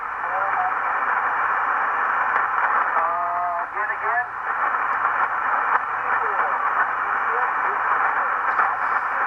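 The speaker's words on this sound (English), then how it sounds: "band's awful noisy this evening, so I'm just listening to a lot of static" Steady, dense radio static hisses throughout from a World Radio Laboratories Duo-Bander 80/40-meter SSB amateur transceiver on a noisy evening band, band-limited and constant, with a faint warbling voice briefly surfacing through the noise around the middle.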